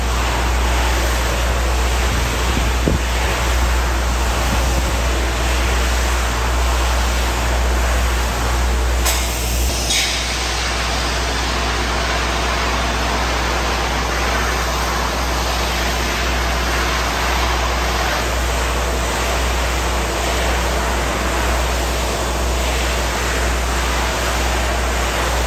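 A steady hissing spray runs continuously and loudly, with a brief change partway through, like foam being sprayed from a gun up close.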